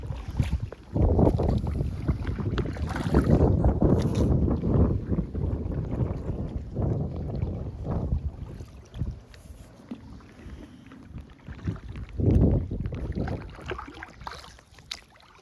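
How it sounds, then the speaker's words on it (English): Kayak paddled across open water, irregular splashy paddle strokes and water sloshing at close range, with gusts of wind buffeting the microphone throughout and no talking. "I'll get back to some rowing."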